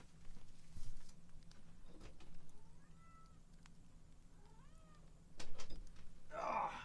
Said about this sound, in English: There's a cat knocking at my door.